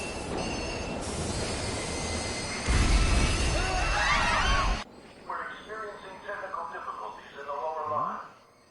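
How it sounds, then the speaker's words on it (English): Train pulling into a platform in the video game Persona 5 Royal, a loud rumbling roar with squealing wheels and a sharp surge, then it cuts to quieter background with a voice talking. "The inbound train will soon be arriving at platform number 1."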